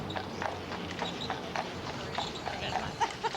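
Horse hooves clip-clop steadily on pavement as a carriage rolls along a city park street, the rhythmic hoof strikes close and clear over a low rumble of wheels and ambient traffic.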